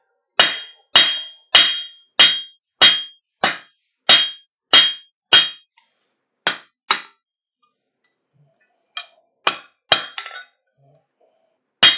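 A metal workpiece rings under a hammer on an anvil during forging: a run of eleven sharp, evenly spaced strikes, a pause, then a few scattered blows, each loud and close with a bright ringing decay.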